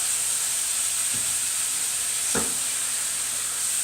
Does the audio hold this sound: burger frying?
yes